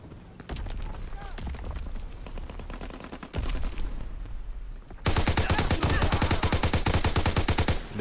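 Rapid automatic gunfire from a WW2 video game rattles in dense, fast volleys, growing louder and more continuous partway through, with a voice occasionally mixed underneath.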